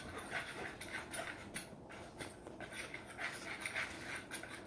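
A hound dog pants in rapid, rhythmic breaths, faint and steady throughout against a quiet background.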